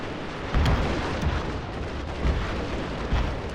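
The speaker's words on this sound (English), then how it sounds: "bombing out this way with the left flank artillery" Artillery in a war video game booms in a dull, rumbling bombardment, several low thuds rolling over a dense, noisy background.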